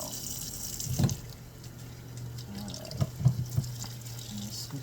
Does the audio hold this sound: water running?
yes